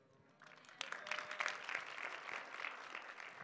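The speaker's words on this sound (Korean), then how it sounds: "박수로 격려하겠습니다" Audience applause breaks out at a church testimony event, a dense wash of many hands clapping that swells after a quiet start and holds steady, fairly close and with no talk over it.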